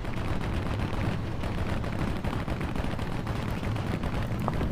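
Tank cannon fire and battle noise from War Thunder Mobile, with a T29 heavy tank in play, form a dense, continuous roar of booms and rumbling, loud and unbroken throughout.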